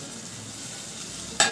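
Paneer cubes fry and are stirred in a pan, a soft continuous sizzle that jumps into a sharp, loud burst of crackling and scraping right at the end.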